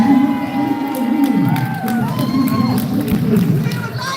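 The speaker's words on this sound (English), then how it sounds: "Round of applause for Lester" A protest crowd in Hull claps and cheers loudly for a speaker, with whoops and shouts rising over the applause throughout.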